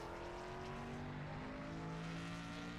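A race car in qualifying at Charlotte weaves back and forth on the apron, its engine a steady, close, droning hum with no one speaking.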